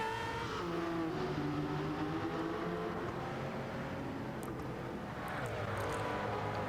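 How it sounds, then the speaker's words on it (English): Nissan Group C race car engine in Gran Turismo 7, a steady loud high-pitched roar with rising and falling revs as the car pulls through the gears, other cars faintly around it. "we've got the Nissan, awesome sounding machine, absolutely love the sound of that"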